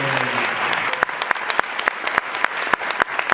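An audience at a theatre play applauds, with a dense wash of clapping and several sharp, distinct claps standing out near the mic.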